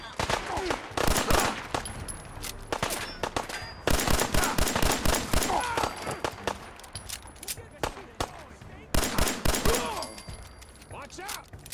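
Bursts of rapid gunfire from settlers' guns in Fallout 4, loud and close, coming in three dense clusters of sharp repeated shots with short lulls between them.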